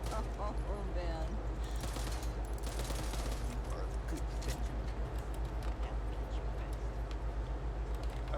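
M16 rifle fire in the zombie shooter game Back 4 Blood, with dense, continuous rattling bursts mixed with other game sounds at a steady loud level.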